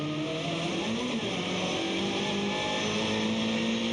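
A WTCC touring race car at Monza holds a steady, high engine whine at full speed, loud and continuous, with no speech.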